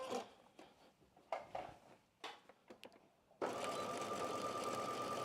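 A sewing machine bastes stitches along the zipper area of a McCall's 8386 spring top. Handling clicks and fabric rustles come first, then the motor runs steadily and close for about two seconds.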